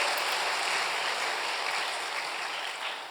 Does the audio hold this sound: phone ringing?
no